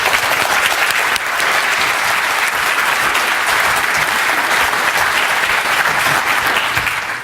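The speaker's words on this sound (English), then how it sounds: "I think we should all put a big round of applause" A large conference audience applauds its speakers in a dense, continuous roar of clapping that holds loud and even for several seconds, with no voices standing out.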